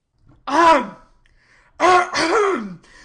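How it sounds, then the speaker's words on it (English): Two loud, deliberate throat-clearing coughs close by, the second a longer drawn-out harrumph, with no talking around them. "When he enters, he coughs loudly, seeing the situation."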